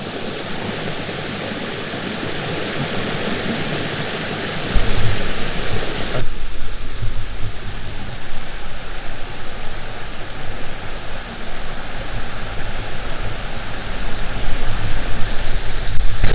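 Water falls and a river flows in Glenariff Forest, a steady, loud, broadband rush that never pauses, growing fuller and louder after a few seconds.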